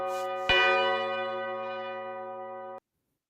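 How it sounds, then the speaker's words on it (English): A single church bell tolls once with a sharp strike and a long, rich ringing decay that sustains for about two seconds before cutting off, loud and alone. "for whom the bell tolls"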